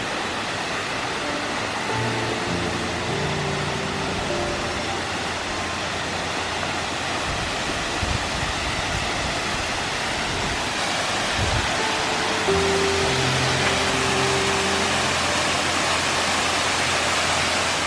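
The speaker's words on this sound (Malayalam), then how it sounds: "ഇവിടെ നമുക്ക് നല്ലൊരു വെള്ളച്ചാട്ടമാണ്" A waterfall near a tree-top cottage in Munnar rushes in a steady, full roar of falling water that continues unbroken, with faint low tones in the background.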